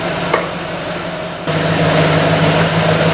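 An IROC-Z barn find car engine idles while warming up, a steady close rumble with a constant hum that gets a little louder partway through.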